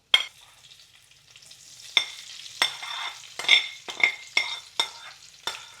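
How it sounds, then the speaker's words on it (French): Peppers fry in hot oil in a pan, a bright crackling sizzle with sharp spits and pops recurring every half second or so as they are stirred, close and alone without talk. "on va faire frire les poivrons."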